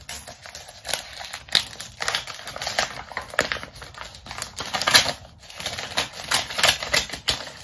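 A paper envelope holding a bank card is torn open and handled up close, with crisp crinkling, rustling and sharp tearing snaps in an uneven run of bursts and no talking.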